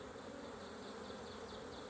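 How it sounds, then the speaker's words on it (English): Honey bees buzz thickly inside an open hive during an inspection, a close, steady, droning hum with no pauses. "lots of bees"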